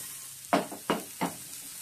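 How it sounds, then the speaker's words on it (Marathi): Carrots sautéing in melted butter in a pan, with three short, evenly spaced stirring scrapes over a faint, steady sizzle. "ह्याच्यामध्ये आपण कॅरेट टाकून घेऊया. आणि छान सॉटे करून घ्यायचं आपल्याला."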